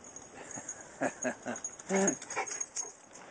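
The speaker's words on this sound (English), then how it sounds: "What are you whinging at, Jill?" A greyhound whines and whimpers in a wood, several short high-pitched bursts in an uneven rhythm, close and moderately loud with a faint background hiss.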